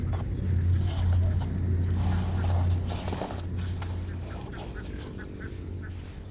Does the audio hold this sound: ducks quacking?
yes